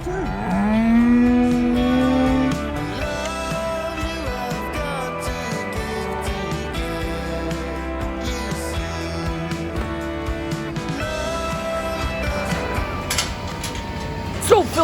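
Several cows moo on a farm, long, deep, drawn-out calls that overlap and follow one another for much of the stretch, loud and close, with a busy background of other animal and farm noise.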